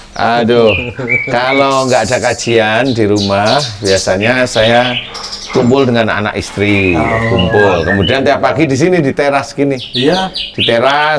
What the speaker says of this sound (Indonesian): ini suara burung bersaut nih jumlahnya lebih dari 10 nih